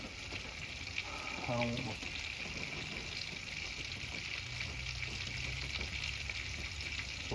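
Bacon and ribeye sizzle steadily in butter on a propane-fired cooktop, a continuous bright frying hiss running the whole time, with brief speech and a few clinks over it.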